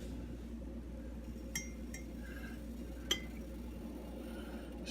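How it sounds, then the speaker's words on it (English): A spoon stirs coffee in a mug, giving a few faint, sparse clinks against quiet room background, with no speech. "Stir it up with the coffee."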